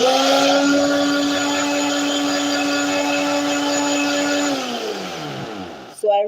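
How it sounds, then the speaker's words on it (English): Blender grinding dry coconut into flour, a loud steady high-pitched motor whine that holds, then winds down as the motor slows and stops, with a brief clatter at the end and a voice speaking over it. "This is a very good blender."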